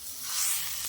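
Chowmein stirred and fried in a pan, a steady bright sizzle that swells slightly over a brief moment, with no voices.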